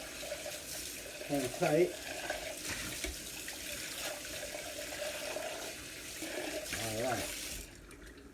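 Tap water running steadily into a sink while rinsing up during homemade corn tortilla making, a continuous hiss under a person talking briefly.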